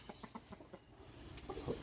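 Chickens cluck softly in short repeated bursts nearby, with quiet farmyard movement and a slightly busier flurry of clucking at the end.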